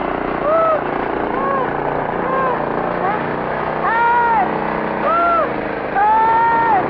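A runaway garden machine motor rendered as a radio sound effect, a continuous droning buzz with rising and falling whine, heard under excited shouting voices throughout.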